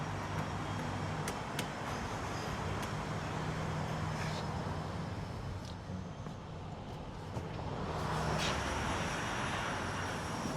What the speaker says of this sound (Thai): ขออนุญาตสตาร์ทรถก่อนนะครับ